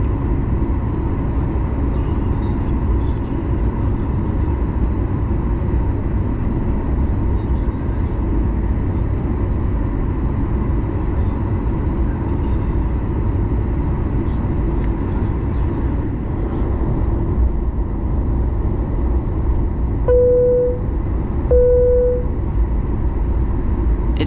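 Icelandair Boeing 737 MAX 9 taxiing to the runway in darkness, heard from inside the cabin: a steady, loud low engine and cabin rumble throughout, with two short tonal chimes near the end.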